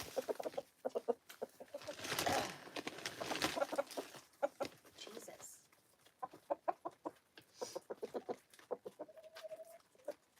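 Hens cluck and murmur inside a coop on a cold Maine morning, close and busy with rapid clucking bursts and a drawn-out call near the end, while a person speaks briefly.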